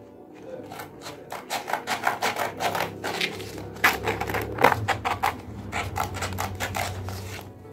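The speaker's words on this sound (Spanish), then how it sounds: "Debemos ser muy cuidadosos para evitar lijar de más o dañar nuestra máscara." A plaster mask is sanded by hand with wet sandpaper, giving close, rhythmic rasping strokes in quick repeated bursts, fairly quiet and alone.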